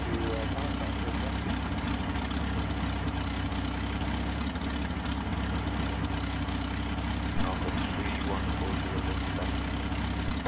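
A P-51 Mustang's engine idling steadily while the plane taxis, a continuous low, even drone heard from close by with faint talk underneath.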